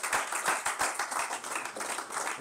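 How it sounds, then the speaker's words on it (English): Dense applause from an audience at a farmers' feed launch event, many hands clapping quickly and irregularly at a steady moderate level, no voices over it. "I want us to give a round of applause to farmers that are still in the industry"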